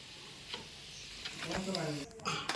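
Potatoes frying in a pan at an outdoor workplace cooking setup, a soft sizzle with occasional stirring scrapes and clinks, and brief speech-like sounds over it.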